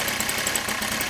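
A DLE 30cc model engine runs at a steady, even drone, close by and continuous, with no voices over it.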